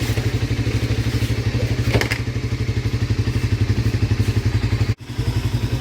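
A motorcycle engine idles after being fitted with a new battery, a loud close steady chugging pulse with a small clatter near two seconds and a brief dropout near five seconds, no speech.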